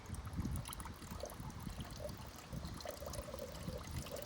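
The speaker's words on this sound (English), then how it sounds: "And this stuff I pour pretty slowly just because it's strong." Strong pool chemical poured slowly outdoors, a faint steady trickle of liquid with soft splashing under light breeze noise.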